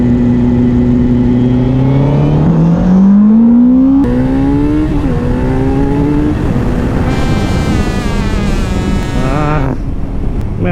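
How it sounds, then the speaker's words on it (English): A motorcycle at full throttle climbs loudly in pitch, drops sharply as the clutch is pressed and the gear shifts, then pulls hard again through another shift, close up with heavy wind buffeting. "So full throttle, never let go of the throttle, you press a clutch and you shift"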